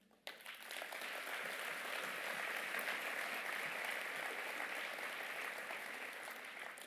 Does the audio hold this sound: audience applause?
yes